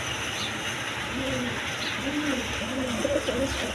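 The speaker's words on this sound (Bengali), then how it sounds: "এক পেয়ার লেস শাড়িং কবুতর আছে" A pair of lace-feathered pigeons coo softly in repeated low phrases at close range, set against a steady background hiss.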